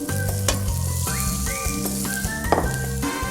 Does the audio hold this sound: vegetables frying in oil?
yes